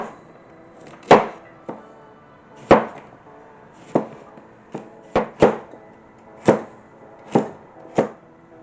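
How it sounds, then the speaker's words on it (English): Carrots being chopped, then radish and cucumber sliced, with a knife on a cutting board: sharp, irregular knocks spaced about a second apart, close and clear with no talking. "I'm going to chop up some carrots and I'm going to slice up some radish and cucumber to dip into"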